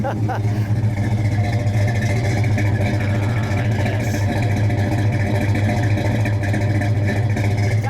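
A 1970 Plymouth GTX with a 440 V8 idles and revs lightly, a steady loud low rumble with mechanical clatter throughout, and a person speaks over the engine.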